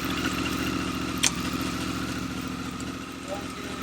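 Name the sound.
Africa Twin motorcycle engine running, shifted into second gear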